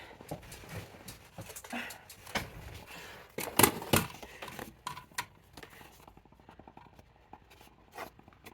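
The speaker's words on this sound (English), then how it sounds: "I'm gonna go ahead and use my paper trimmer." A paper trimmer cuts sheets for a handmade junk journal, giving quiet, close clicks and taps with one louder sharp slicing burst near the middle and lighter ticking afterward.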